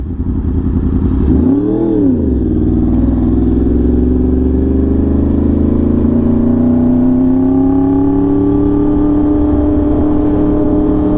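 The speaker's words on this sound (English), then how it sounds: "There's no doubt that you can hear this bike from far away now." A Yamaha R1M sport motorcycle fitted with an SC Project exhaust revs up sharply and then holds a loud, steady, rising drone close by, with no talking over it.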